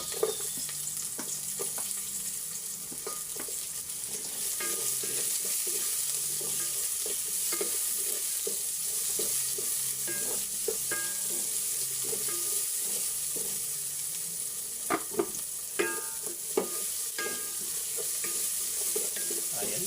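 Onion sautéing in a pan for chicken tinola, a continuous sizzle with scattered scraping and clinking of a spoon, busier stirring taps toward the end, no one speaking.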